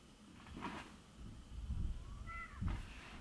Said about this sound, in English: My cat's back there.